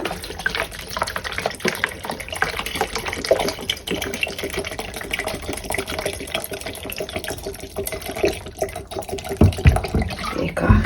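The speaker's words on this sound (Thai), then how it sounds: "เทใส่ เทให้ท่วม" Pickling liquid is poured over wild garlic stems to cover them completely, a steady close gush of liquid that runs without a break and swells slightly toward the end.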